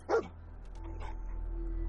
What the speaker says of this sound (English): Oh, that's a happy dog.